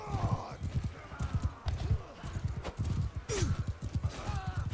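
A horse gallops in the video game Mount and Blade 2 Bannerlord, a rapid steady clip-clop of hooves with an occasional whinny, while someone talks over the action.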